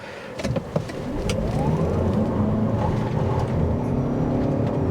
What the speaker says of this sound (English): off the line acceleration, and we're going to repeat that on the road as well